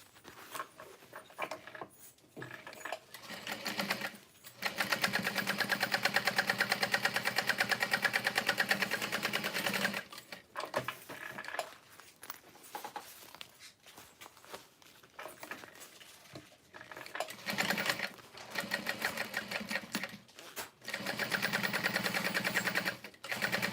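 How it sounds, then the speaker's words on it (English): Top stitching through vinyl on a sewing machine, with long steady runs of mechanical whirring broken by short pauses and a few stop-and-start bursts, close and fairly loud. "And then we're going to flip this up and top stitch through the vinyl."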